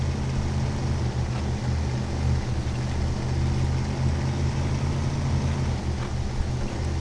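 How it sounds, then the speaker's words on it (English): Limes SXS buggy engine in the SnowRunner video game, a high-powered buggy drone running steady and loud throughout, with a dense low rumble and a slight rise and fall in revs. "It does sound like a buggy, actually, like a pretty high-powered buggy."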